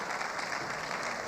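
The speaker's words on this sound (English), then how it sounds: "Can we please make the applause more resounding" An audience claps for the Minister of State for Health at a malaria pre-elimination program event in Lagos State. The applause is steady and moderately distant, with no voices over it.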